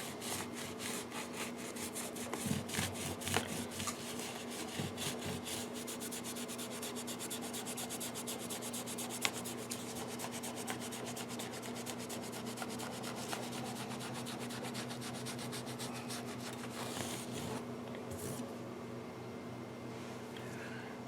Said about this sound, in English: Clean all this gunk off this fretboard.